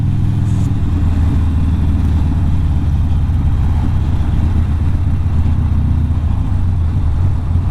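A Harley-Davidson Sportster 48 motorcycle engine roars loud and close, a continuous deep rumble throughout.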